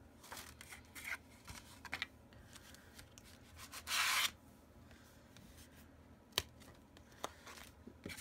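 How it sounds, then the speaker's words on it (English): Adhesive backing is peeled off a paper card during a papercraft project, with faint scattered rustling followed by one short, sharper ripping burst, then a few small ticks in a quiet room. "is where you're peeling off the adhesive so that you can put the candle flame there"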